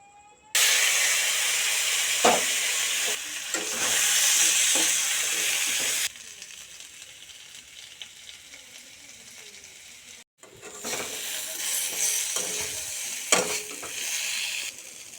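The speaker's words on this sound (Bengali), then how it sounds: "এবার আলুগুলো লাল লাল করে তেলে ভেজে নিব" Boiled potatoes frying in oil in a kadai for a rohu fish curry, a loud close hiss and sizzle that cuts out briefly and returns, with occasional clinks of stirring.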